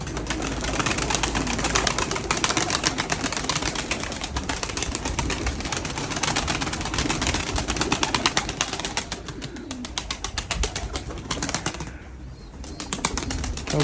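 Pigeons on their evening flight: a dense, steady whirr of many flapping wings with scattered soft coos, close and continuous, briefly thinning near the end.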